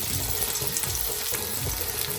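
Alu vadi rolls fry in oil on a flat pan, giving a dense, steady crackling sizzle that stays close and even throughout the short stretch.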